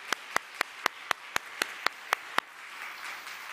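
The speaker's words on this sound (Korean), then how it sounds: "우리 일을 위해 수고한 우리 모든 분들을 격려하는 마음으로 우리 박수했으면 좋겠습니다" Church congregation applauding staff at a young adults' church festival: about ten crisp, evenly spaced claps ring out nearby, then give way to a soft, scattered patter of applause.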